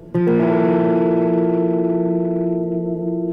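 An electric guitar played through heavy distortion strikes one loud chord that rings out, thick with harmonics and slowly fading over three seconds, alone without speech.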